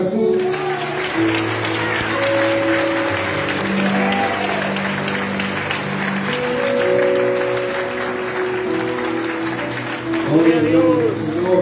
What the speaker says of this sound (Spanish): Puedes aplaudir a Jesús